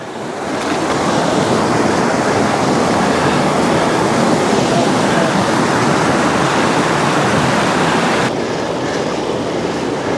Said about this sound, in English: we're crossing the creek another time